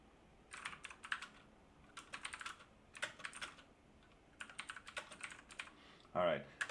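Computer keyboard typing while writing code, heard as close, steady bursts of rapid keystrokes separated by short pauses, fairly quiet, ending with a brief louder clatter.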